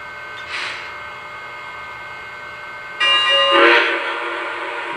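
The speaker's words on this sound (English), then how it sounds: "You'll get 2 dings and a quick whistle toot to tell you that you have entered sequence mode." A Lionel Legacy Southern Crescent Limited 4-6-2 Pacific steam locomotive gives a short ding, then after a pause a brighter bell ding with a quick whistle toot, loud and close with no talk.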